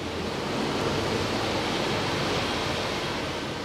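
Lentil vadas fry in hot oil with a continuous, even sizzle, a close, dense crackling hiss that holds steady throughout with no voices.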